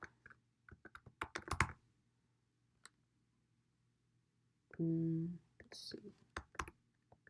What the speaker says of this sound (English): So I'm going to put in the password right now.